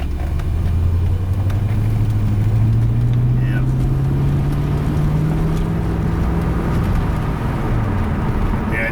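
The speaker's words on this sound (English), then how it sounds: "definitely sounds like we got a single cylinder misfire" A Chevy Corvette engine with a single-cylinder misfire idles and slowly rises in pitch, a steady close drone with a faint uneven roughness and no talk over it.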